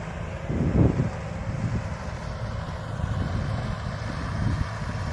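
A Mahindra tractor engine running in power saver mode, a steady low diesel rumble at close range with a brief louder surge early on and slight wind buffeting; no voices.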